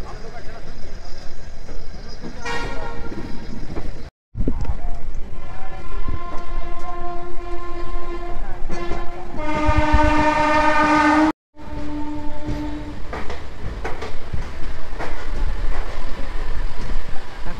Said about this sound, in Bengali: মানে 33 মিনিট লেট করে ট্রেনটা ছাড়লো।